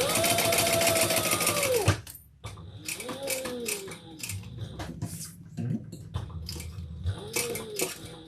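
A sewing machine back stitching through thick leather on a crossbody handbag, its motor whirring in a steady run that stops abruptly, followed by short bursts of stitching and mechanical clicks and ratchets, close and moderately loud.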